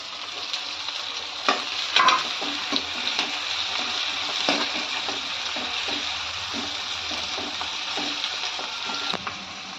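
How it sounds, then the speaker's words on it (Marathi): Onion and tomato, with a little coriander, sautéing in oil in a pan, giving a steady close sizzle with occasional stirring scrapes and clinks, no voices. "कांदा तेलात चांगला परतून घ्यायचे."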